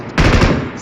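Single loud, close sniper shot in the mobile shooter BGMI, a sharp burst that rings briefly and then fades.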